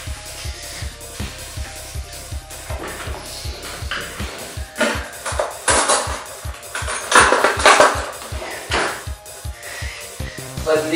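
A spoon rattles and clinks steadily against the inside of a cup or glass, stirring in sweetener, a rapid repetitive stirring rhythm with some louder knocks, close by.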